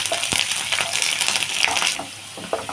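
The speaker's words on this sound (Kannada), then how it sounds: "ಇವಾಗ ನಾನು ಕರಿಬೇವು ಸೊಪ್ಪು ಹಾಕ್ತಾಯಿದ್ದೀನಿ ಕರಿಬೇವು ಸೊಪ್ಪು ಸ್ವಲ್ಪ ಫ್ರೈ ಆಗಿದೆ" Curry leaves dropped into hot oil with onions for onion puliyogare, a loud spitting crackle with sharp pops that sputters intensely, then settles into a quieter sizzle with scattered snaps, heard close up.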